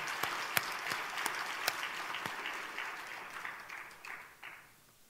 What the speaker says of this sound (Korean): 한번 박수 해봐